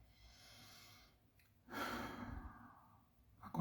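Slow, soft breathing during a guided meditation, a quiet exhale followed by a longer, fuller sigh-like breath, close and alone in near silence.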